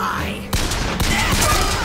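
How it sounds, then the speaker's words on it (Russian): Heavy, rapid gunfire from several weapons aimed at the player in the shooter game Bioshock Infinite, a close, dense burst of overlapping shots lasting a couple of seconds. "Ну и обстрел по нам"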